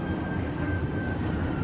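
Train arriving at a station in France, heard as a steady low rumble with a faint sustained whine above it. The sound stays even and close throughout, with no talking.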